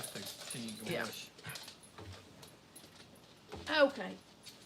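A dog whimpers and lets out short yips in a home, close by, mixed in with people talking around it.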